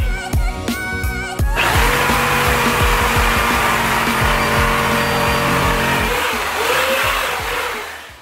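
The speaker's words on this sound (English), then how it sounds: "where I'm gonna be using my jigsaw to cut all the way straight through" Jigsaw cutting straight through a wooden board while building a flip-top clamping cart, a loud continuous buzzing saw whine that starts after a few clicks and runs steadily, fading near the end.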